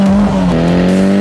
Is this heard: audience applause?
no